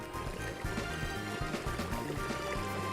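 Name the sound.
water draining after lever pulled, video game Trails in the Sky SC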